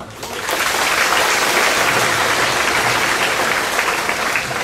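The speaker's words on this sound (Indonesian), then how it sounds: "Tepuk tangan lagi loh." Students applaud at a school flag ceremony, a dense, loud wash of clapping from a large crowd that rises quickly and holds steady outdoors.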